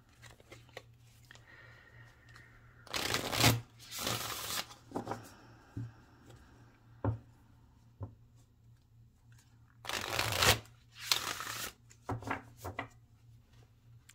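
A brand-new Sacred Destiny tarot deck being shuffled: several separate bursts of riffling and sliding cards, close and fairly quiet, with brief taps between them over a faint low hum and no speech.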